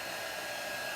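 A heat tool, the kind used for embossing cards and paper crafts, blows hot air in a steady, loud, broadband whoosh like a hair dryer, continuous and even throughout with no talking.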